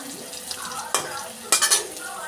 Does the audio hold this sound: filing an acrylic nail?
no